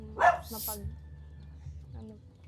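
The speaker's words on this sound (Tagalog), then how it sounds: "Aso maingay." A dog barks sharply near the start, then people talk in the background as the room stays noisy.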